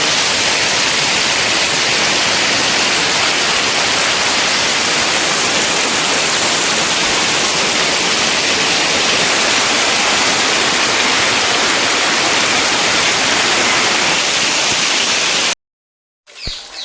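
Loud, steady broadband rushing of a river, continuous and close, cutting off abruptly near the end with a brief faint sound after.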